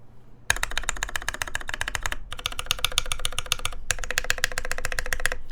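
Keys on a TGR Alice keyboard with a polycarbonate case are typed in rapid bursts of crisp, close clicking and clacking, with two brief pauses between runs of dense keystrokes, and no voices.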